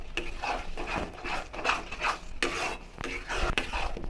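A utensil stirs and scrapes a thick spiced gram-flour dough with cumin in a metal pan, close up, in a quick repeated rhythm of rubbing and knocking strokes, with no talking.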